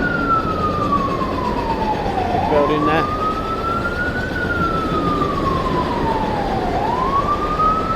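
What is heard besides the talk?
emergency vehicle siren in New York City street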